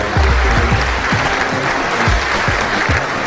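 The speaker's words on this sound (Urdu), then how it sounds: "بہت ساری تالیاں طارق عزیز صاحب کے لیے ہونی چاہیے" Studio audience on a televised quiz show breaks into steady, dense applause, many hands clapping continuously and loudly for the full stretch with no talk.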